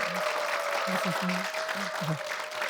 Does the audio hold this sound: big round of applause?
yes